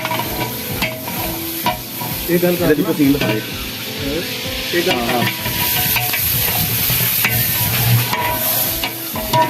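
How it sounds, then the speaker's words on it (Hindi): A full tray of onions sizzles and fries in hot ghee inside a large deg cooking pot for chicken korma, a loud continuous crackle with intermittent scraping and stirring clatter from a utensil against the metal. "घी हमारा अच्छी तरीके से गर्म हो चुका है। एक परात प्याज़ों की हम इसमें डाल देंगे भर के।"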